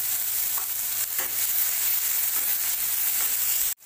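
Onions frying in a pan, a dense continuous sizzle with occasional stirring scrapes, close and steady for a few seconds before cutting off abruptly, no voices.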